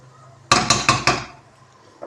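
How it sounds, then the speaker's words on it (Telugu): Cooked mixed vegetable fry being scooped from a pan into a serving bowl, four quick close metallic scrapes in a row, then quiet and a faint final knock. "సర్వింగ్ బౌల్లో తీసి చూపిస్తాను."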